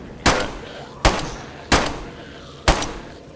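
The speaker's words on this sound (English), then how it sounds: "That was you shooting." Four separate pistol shots in the survival video game DayZ, spaced about a second apart. Each is a loud, sharp crack with a short decaying tail, and no talking is heard.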